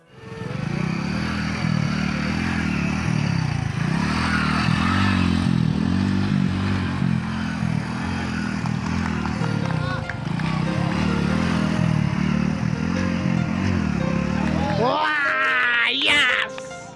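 A motorcycle rides a zigzag driving-test course, its engine droning steadily close by and rising and falling as it weaves, with a rising rev near the end and voices underneath.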